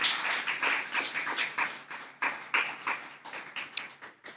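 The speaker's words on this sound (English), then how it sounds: "You could give them a round of applause too." A school tournament audience claps for the runner-up primary school's football team, a patter of irregular claps in bursts, moderately faint and somewhat distant, with no voices over it.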